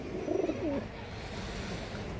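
A male pigeon gives a short, soft coo near the start, then low background murmur follows; quiet and fairly close, without speech.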